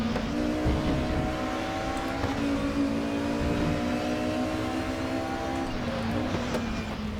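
Touring car engine droning steadily at high revs in RaceRoom Racing Experience, a continuous near roar with slight pitch shifts as the car holds speed, no talk over it.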